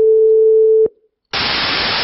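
A pure, smooth synthesized sine wave tone hums steadily for almost a second and ends with a click, followed by a pause and then loud hissing noise.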